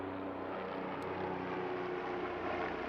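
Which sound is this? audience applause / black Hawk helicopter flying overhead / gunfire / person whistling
black Hawk helicopter flying overhead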